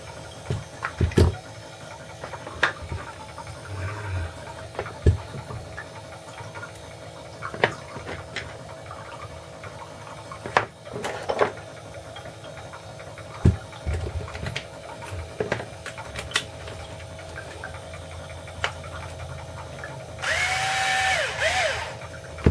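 Small electric motor of an Axial Wraith RC truck, fitted with a dual motor mount, whirring in short bursts between clicks and handling noises on a workbench, with a louder, higher-pitched run near the end.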